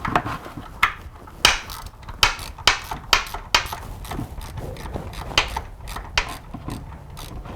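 Ratchet socket wrench with a 10 mm socket working the radiator drain bolt on a Honda CBR1000RR, a series of sharp close metallic clicks in irregular bursts, with short pauses between strokes.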